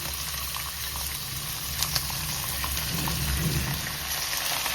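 Soaked rice and green peas frying in a pan for pulao, a steady close hiss of sizzling with a couple of faint scrapes of a spoon, no voices.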